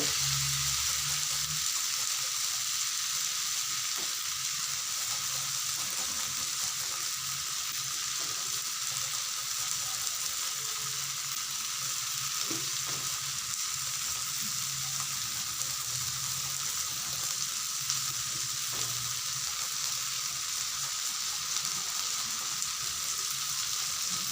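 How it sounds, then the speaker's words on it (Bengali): Garlic fries in hot oil in a pan for a potato and dried-fish curry, holding a steady, even sizzle throughout with faint occasional clicks and no talking. "এরপর আমি রসুনগুলোকে দিয়ে দেব।"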